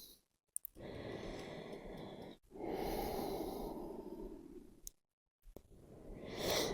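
Slow, deep breaths during a relaxing yoga stretch with arms extended forward: long airy exhales and inhales, close and soft, separated by brief pauses.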